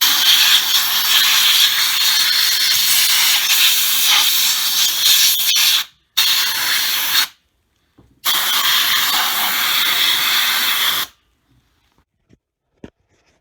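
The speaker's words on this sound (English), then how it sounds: "I'm going to hit it with compressed air one more time after I have the coil covers off." Compressed air blasted around the coil covers of a 5.0L engine, a loud, close, steady hiss in long bursts broken by brief gaps, then a few faint clicks after it stops.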